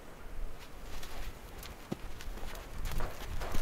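Horse hooves clip-clop softly on the ground during groundwork training, a scattered series of light, fairly faint steps over a low background hiss.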